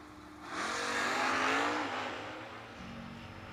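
A Camaro drag race car launches and accelerates hard down the strip at a footbrake drag event, its engine roar swelling loudly for about a second and a half before fading into the distance.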